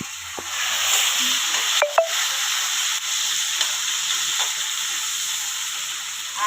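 Bottle gourd bhaji frying in a pan with coriander and tomato stirred in, a steady close sizzle and hiss with scraping of the spoon and a couple of light knocks.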